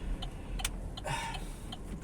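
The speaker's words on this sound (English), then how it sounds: "Big disadvantage of this car is the indicator sound. It's so loud." The turn indicator of a 2012 Chevrolet Malibu LT with a 2.4L engine ticks in a loud, sharp, evenly spaced rhythm inside the cabin, several clicks over a low idle hum.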